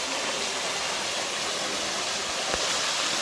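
Waterfall in a desert canyon of Saguaro National Park, heard as a steady, broadband rushing roar of falling water that holds constant and fairly loud throughout, with no voices.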